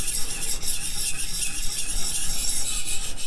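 A ZT Hinderer Slicer 0562 knife edge, slightly dipped from a grinder, rubbed along a sharpening stone: close, steady gritty rasping in quick back-and-forth strokes that blur into a continuous scrape, with no voices.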